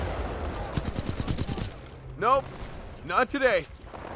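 Gunfire in the video game Titanfall 2, a rapid burst of shots early on followed by sweeping weapon sounds, with someone talking over it.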